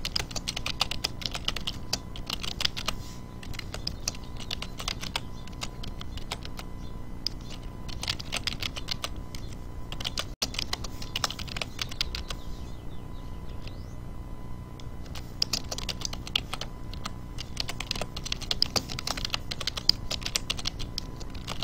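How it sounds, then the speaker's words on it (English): Fast, close typing on a computer keyboard during a tabletop Dungeons & Dragons session, continuous clattering keystrokes in bursts with a short lull in the middle before the rapid typing resumes. "Just a second, I'm typing this in my note."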